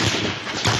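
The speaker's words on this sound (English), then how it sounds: "gunshots ring out" Gunfire near a stationary convoy at a checkpoint, heard as dense, loud, overlapping bangs filling a brief burst with no gaps.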